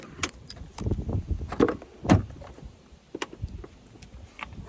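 A car door on a 2000 BMW E38 740i Sport opening, with a few close, distinct clicks and thuds from the latch and hinge spread over a few seconds against quiet background noise.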